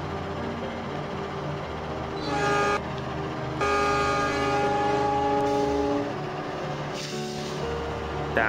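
KA218 Jayakarta passenger train departing Cikarang station in Indonesia, sounding loud, tonal horn blasts, one short and one long sustained, then a brief third, over a steady rumbling engine and station background.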